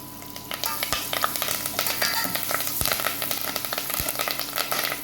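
Curry leaves hit hot oil with fried lentils for cucumber poha, giving a loud, steady sizzle and crackle with occasional sharp spoon taps against the pan.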